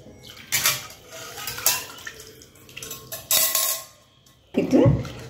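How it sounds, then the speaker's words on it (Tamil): A spoon stirs millet porridge (koozh) with buttermilk in a pot, making intermittent scraping and sloshing clinks in short bursts, with a heavier clatter near the end. "இப்போ மோர் விட்டு நல்லா கூழை கலக்கி"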